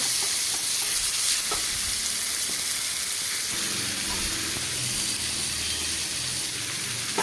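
Sliced okra, about 200 grams, sautéed in an eared clay curry pot, giving a steady close sizzle with occasional stirring scrapes throughout, no talking.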